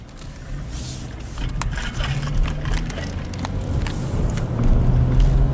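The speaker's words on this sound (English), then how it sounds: "Okay, let's drive to it." A car driving along a road, a continuous low engine rumble and tire noise that swells slightly toward the end, with occasional small rattles inside the cabin.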